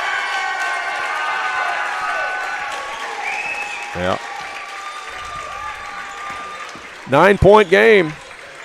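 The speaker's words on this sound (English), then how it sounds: "They're all standing up and applauding." Hillsboro basketball fans standing and applauding in a gym during a tournament game against Woodlawn: steady crowd clapping and murmur under a commentator's talk, with brief shouts rising near the end.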